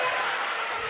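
Crowd at a high school boys basketball playoff game applauding, a steady dense wash of clapping and cheering, loud and continuous throughout.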